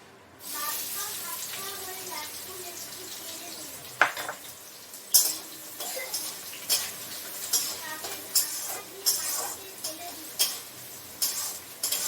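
Onions frying in oil in a wok for mutton curry, a steady sizzle with repeated clinks and scrapes of a spatula against the pan and a person talking over it.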